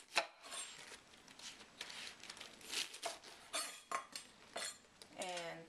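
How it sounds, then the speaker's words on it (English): A knife trims the ends off a firm napa cabbage with frilly leaves, giving a series of close, crisp cutting and scraping strokes on a board in an irregular rhythm, with light clattering between cuts. "So what we're going to do with the cabbage is trim the ends."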